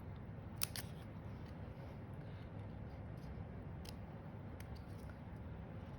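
Scissors trim paper card while crafting, with a few quick, crisp snips spaced apart over a soft steady background hiss.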